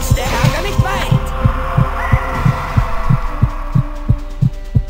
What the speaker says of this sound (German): man hört den Herzschlag von dem Typen